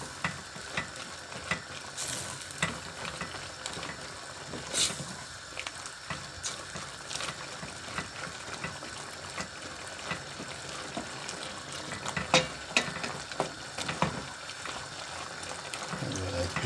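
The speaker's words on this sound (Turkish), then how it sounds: "Güzelce karıştırıyorum" A spoon scrapes and stirs through tomato paste with a chicken and mushroom sauté in a pan, soft sizzling underneath and scattered clinks of utensil against the pan, close and moderately quiet.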